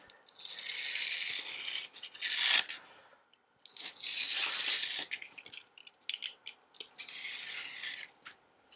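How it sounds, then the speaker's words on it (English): A sharp knife trims excess leather from freshly glued strops in three bursts of dry scraping and rasping, close and fairly quiet, with short pauses between passes. "Sharp knife, trim off the leather."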